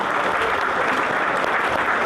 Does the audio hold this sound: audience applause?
yes